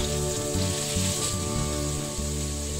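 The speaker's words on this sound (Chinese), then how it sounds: "加点蒜，再放点辣椒，翻面啊，煎啊" Shrimp and scallops fry in oil with garlic and chili, giving a steady, close sizzle with a crackling hiss. A strong, pulsing low hum runs underneath throughout.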